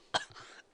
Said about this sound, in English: I think I got a kennel cough.